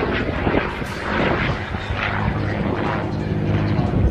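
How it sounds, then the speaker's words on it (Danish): A Spitfire's Rolls-Royce Merlin V12 engine in DCS World gives a loud, steady propeller-aircraft roar with a deep throbbing drone. Someone speaks Danish over it throughout. "Spitfire har en meget kraftig, den her 12-cylindrede Rolls-Royce Merlin-motor"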